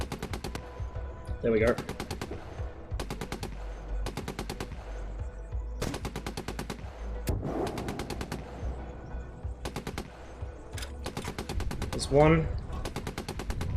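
Rapid machine gun bursts ring out in the tank game GHPC, repeated sharp rattling volleys separated by short pauses, with someone talking and radio-like voices over the firing.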